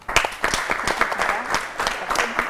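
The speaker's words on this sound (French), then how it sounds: "Donc j'aimerais qu'on applaudisse pour ça." Studio audience applause during a French-language talk show about a women's film festival, a dense steady burst of many hands clapping that fills the whole stretch at moderate loudness, with no talk over it.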